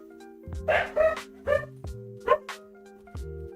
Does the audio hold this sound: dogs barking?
yes